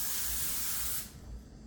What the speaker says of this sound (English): you spray the non-shiny side of the foil